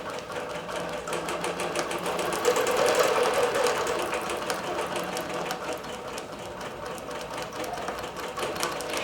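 A computerized quilting machine stitches the border of a quilt, a steady fast mechanical rattle of needle strokes running continuously at close range with no talk.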